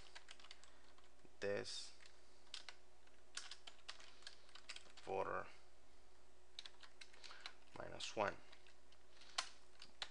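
Computer keyboard typing while writing PHP code: quick, close key clicks patter irregularly throughout, with someone speaking a few short phrases over it.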